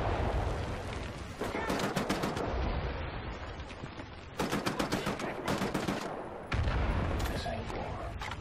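Dense, rapid dual-wielded automatic gunfire in Wolfenstein: The New Order, loud and close, coming in several sustained bursts separated by brief lulls, with no talk over it.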